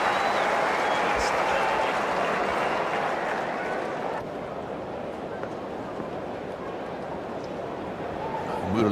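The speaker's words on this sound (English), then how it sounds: "So a big cheer goes up because Lara has survived." Large cricket crowd at a stadium cheering and applauding after a batsman survives a review, a sustained roar of applause and voices that eases slightly midway but carries on throughout.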